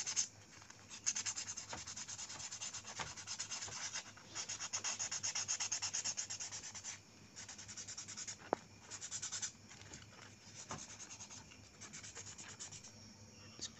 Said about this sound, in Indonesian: Lalu kita bersihkan dengan amplas seperti ini.